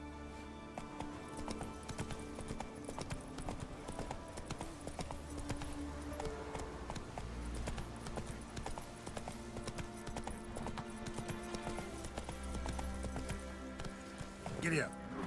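Roach, a horse in The Witcher 3, gallops with steady, rhythmic hoofbeats that carry through the whole stretch, mixed with game music and ambience while someone talks over it.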